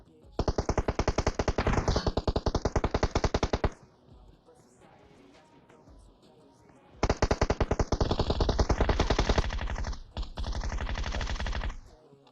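Bursts of rapid automatic gunfire in PUBG Mobile, two long rattling volleys separated by a quieter stretch, loud and close.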